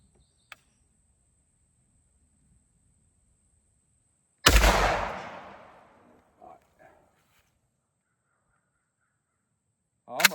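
A single loud 12 gauge shotgun blast firing a Winchester dove load with 7.5 shot through a modified choke, sharp and close with a decaying echo, set among quiet outdoor stillness with a few faint knocks and another brief bang at the end.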